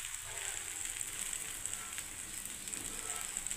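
Bora pitha, a pancake stuffed with chhana, carrot and tomato, sizzles steadily on a hot tawa as it is flipped, a dense, even crackle of frying throughout with no talking.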